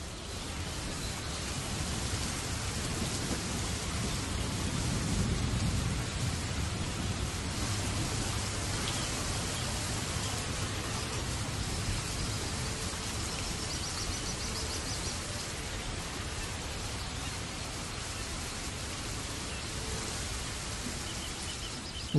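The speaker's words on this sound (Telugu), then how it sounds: "వర్షం ఎక్కువగా ఉంది" Heavy rain pouring steadily outdoors, a dense, even hiss of falling water that holds for the whole stretch with no voices.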